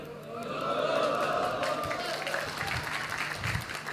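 An audience in a mosque during a Maulid Nabi gathering claps in a steady wash of applause, mid-distance and continuous, with a voice speaking over the crowd throughout.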